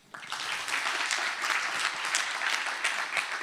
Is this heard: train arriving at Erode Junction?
no